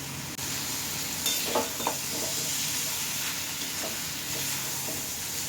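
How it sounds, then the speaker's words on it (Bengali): Spinach being stirred and fried dry in a pan, a soft continuous sizzle and hiss with occasional scraping strokes of a spatula, fairly quiet and without talk. "আমি একটু নেড়ে একদম শুকনো করে নিচ্ছি জিনিসটা"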